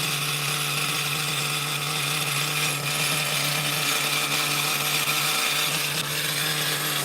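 A Novarossi nitro engine in an Ofna Jammin RC car runs on a cold first test start after a rebuild, holding a loud, steady, high-pitched buzzing drone close by for the whole stretch with no talking.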